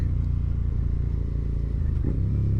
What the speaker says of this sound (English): So let's go and hop on the bike right now.